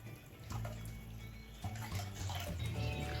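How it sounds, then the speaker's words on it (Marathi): Water in a pot on a high gas flame coming up to a boil for idli batter, a steady bubbling wash of liquid sound at moderate level with no voices. "उकळी यायला लागलेली आहे मैत्रिणींनो"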